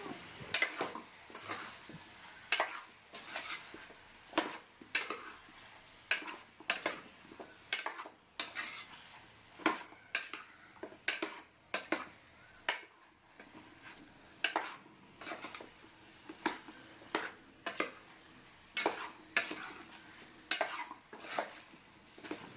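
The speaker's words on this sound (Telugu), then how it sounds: "పసుపు వేసుకున్న తర్వాత శుభ్రంగా అన్నీ కలిపి వేసుకొని" Chopped bottle gourd mixed with turmeric is stirred in a pan for a chutney, heard as a long series of rhythmic scraping, clinking strokes of a utensil against metal over a faint sizzle, with no voices.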